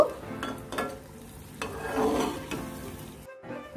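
Nimki, a flaky fried flour snack, deep-fries in hot oil with a steady close sizzle and bubbling. Intermittent scraping stirs cut through the frying, and it stops abruptly near the end.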